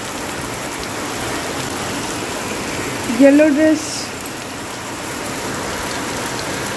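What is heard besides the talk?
heavy rain falling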